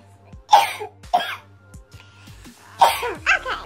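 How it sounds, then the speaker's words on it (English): Several sharp coughs in separate bursts, close and fairly loud, with brief quiet gaps between them. "I'm about to cough."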